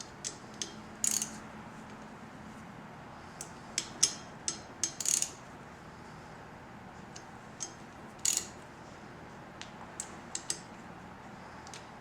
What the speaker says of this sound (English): And do the same thing when you torque it.